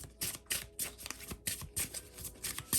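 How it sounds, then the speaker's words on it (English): Tarot cards being shuffled by hand: rapid, crisp papery flicks and riffles repeating in quick succession, close and fairly soft, with no voices. "So let's pull some more cards."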